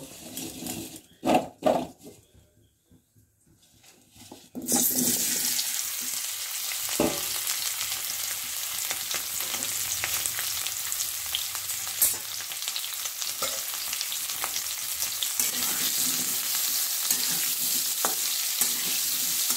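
Boiled potatoes fry in hot oil in a wok with a steady, loud sizzle that starts after a few clattering knocks and a short quiet pause, then carries on evenly.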